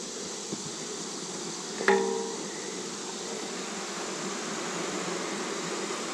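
Honey bees in a hive freshly dosed with smoke make a dense, steady buzzing hum that fills the whole clip, with a single sharp knock near the two-second mark.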